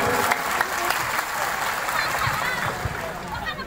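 A crowd at an election campaign rally claps loudly and continuously, a thick wash of applause lasting a few seconds, with voices mixed in underneath.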